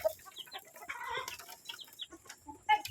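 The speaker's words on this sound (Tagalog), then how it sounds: "Ito ang aking mga manok ng tutakaw." Chickens being fed in a Filipino backyard cluck in short, scattered calls, with a pigeon among them, fairly close and moderately loud, with no talk over them.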